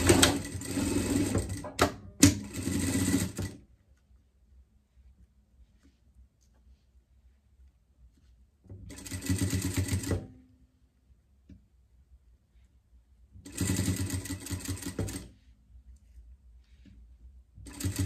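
Sewing machine topstitching a fabric cap in three separate bursts of steady, rapid stitching, each lasting a few seconds, with quiet pauses between them and no talk.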